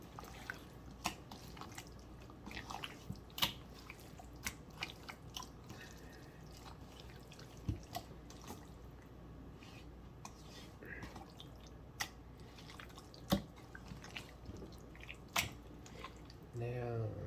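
Wet squishing and dripping as hands rub marinade into raw chicken for spicy jerk chicken, soft irregular squelches with small clicks throughout and no clear talk.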